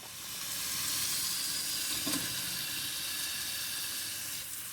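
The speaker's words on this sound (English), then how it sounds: "Making some Black Angus bacon and cheddar cheese burgers." Black Angus bacon cheddar burgers frying in a pan give a steady, fairly quiet hissing sizzle, with one small pop partway through.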